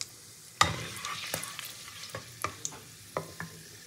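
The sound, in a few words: whole garam masala spices frying in hot oil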